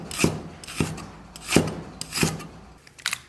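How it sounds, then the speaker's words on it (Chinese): A knife slices ginger into small pieces on a cutting board, making five or six quick, crisp chopping strokes at an even pace, close and fairly quiet, with no talking. "姜稍微来点小片"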